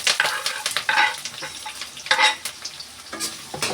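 Onion, curry leaves, carrot and finely chopped green chilli hit a hot pan for egg fried rice, bursts of loud sizzling and clattering stirring strokes coming in quick uneven waves, close up with no talk.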